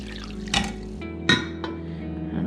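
Steeped green tea strained from a pot, giving soft trickling water with a few brief clinks of dishware, close and fairly quiet with no talking.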